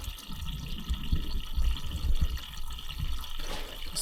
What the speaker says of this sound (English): the fluid is draining right into the funnel and then right underneath in the drain pan